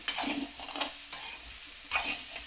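Bitter gourd frying in oil in a pan, soft bursts of crackle and scraping stir strokes rising and falling at a moderate, close level.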